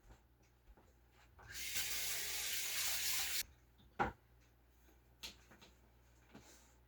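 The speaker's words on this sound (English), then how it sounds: "Run this under cold water." Cold water runs from a kitchen tap into a sink in a steady rushing stream for about two seconds, then shuts off, leaving a few quiet clinks and knocks nearby.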